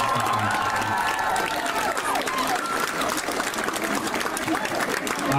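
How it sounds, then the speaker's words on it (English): An audience at a school Eisteddfod evening applauds in a long, steady roar of clapping mixed with cheering and crowd noise, loud and continuous throughout. "Can we give them a big round of applause?"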